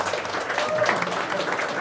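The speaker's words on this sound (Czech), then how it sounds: "Můžete mu zatleskat." Applause for a guest at a live podcast recording, a brief burst of clapping from a small audience heard at moderate distance.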